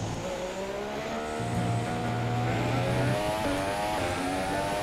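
Formula 1 car in F1 2017 at Spa-Francorchamps, its engine whining steadily and climbing through gear changes as it drives, loud and close, with no talk over it.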